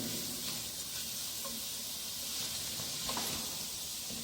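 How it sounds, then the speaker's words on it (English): Quiet sizzling of rice frying in a hot pan with a soft, continuous hiss and occasional scraping as the rice is stirred around. "We will continuously stir the rice."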